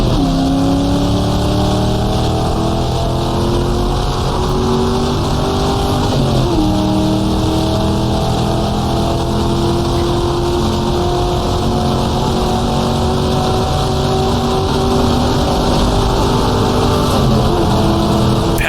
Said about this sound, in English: Just getting the GT40 slowed down.